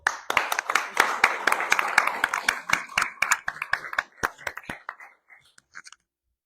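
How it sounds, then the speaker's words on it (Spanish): An audience at a book presentation in a museum claps in a dense burst that slowly thins to scattered claps and then stops. "Un fuerte aplauso, por favor."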